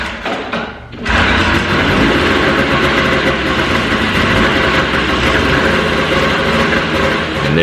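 A snowmobile engine, its carburetor just cleaned, catches after a quiet moment and settles into a loud, steady, close idle with a continuous rumbling drone.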